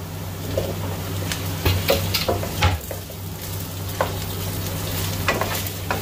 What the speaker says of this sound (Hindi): और तकरीबन 4 से 5 मिनट तक मैं आलू को इस तरह फ्राई करूंगा प्याज के साथ।